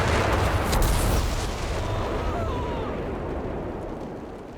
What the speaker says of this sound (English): there is the M2 howitzer now from Hydra. Incendiary bombing.